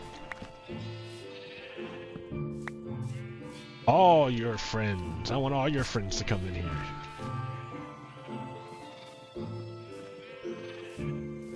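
Sheep bleat in a Minecraft game, a cluster of wavering bleats in the middle, loud and close, while a player talks over calm background game music.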